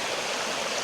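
Continuous rushing stream water at a forest camp in the jungle, a steady full broadband flow with no breaks.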